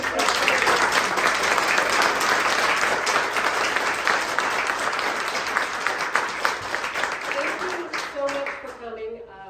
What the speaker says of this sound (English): And please, let's give one more big round of applause.